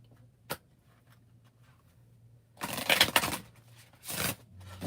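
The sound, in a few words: tarot cards being shuffled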